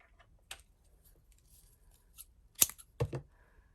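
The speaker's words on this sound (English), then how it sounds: "I need my scissors" A few sharp snips of scissors, isolated clicks spaced apart in a quiet room, with two crisp cuts close together near the end.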